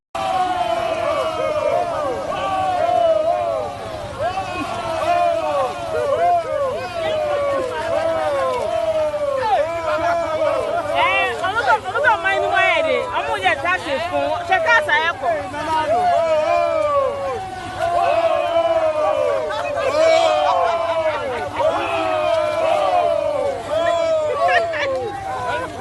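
A large, loud crowd jeers and boos Dr. Bawumia, many voices shouting and calling over one another in a continuous, dense roar for the whole stretch.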